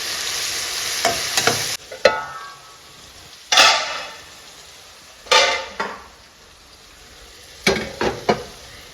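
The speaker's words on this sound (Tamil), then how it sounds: "இப்போ தக்காளி நல்லா வதங்கட்டும்." Tomatoes with salt and turmeric frying in a pan, a steady sizzle broken by several sharp bursts of stirring and utensil scrapes against the pan, close and with no talking.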